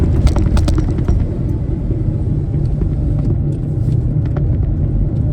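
A 2000 Porsche Boxster S with over 200k miles and a bigger-displacement engine, shifting from first to second gear: loud, close, continuous engine rumble and road noise throughout.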